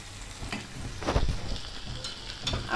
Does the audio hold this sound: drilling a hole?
no